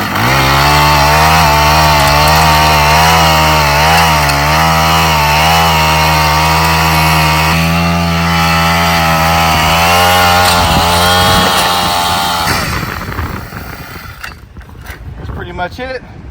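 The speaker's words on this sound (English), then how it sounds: "for the longest time, always just used my little cultivator here and bust it up" A small garden cultivator runs loud and steady as it tills soil for planting blueberries, its buzzing engine note wavering under load before cutting out, followed by brief clattering and quiet.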